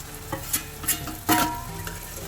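Jackfruit being stirred into hot spiced oil, frying with a low sizzle and several scraping stirs of the spoon across the pan, clear and close.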